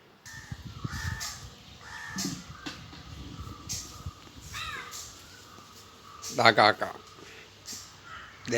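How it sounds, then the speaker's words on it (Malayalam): Several harsh caws from a crow nearby, loudest in a quick burst near the end, with quiet talk and household noise in between. "കാക്ക വന്നിട്ടുണ്ട്"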